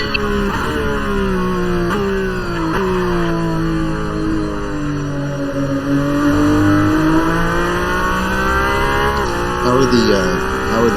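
Formula One cars in a racing video game roar with sustained engine tones that rise and fall through gear changes, loud and continuous, with people talking over them.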